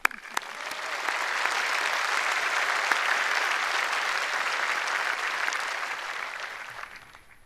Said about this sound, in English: I think we deserve our own round of applause.